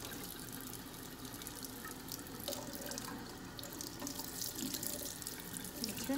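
Tap water runs steadily into a sink to rinse an orange tabby kitten, a continuous faint splashing stream with occasional drips and small shifts, no voices over it.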